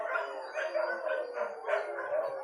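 Dogs at a stray dog shelter howling in a chorus, several drawn-out, wavering cries overlapping in a steady rise-and-fall rhythm, moderately loud and unaccompanied by talk.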